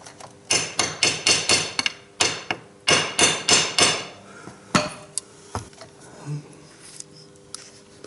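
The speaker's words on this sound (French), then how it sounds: "tu tapes jusqu'à que ça aille dans son logement" A hammer taps a motorcycle gear selector oil seal into its housing: about fifteen sharp, close metallic knocks in quick bursts, then a few isolated, softer taps and a quieter pause.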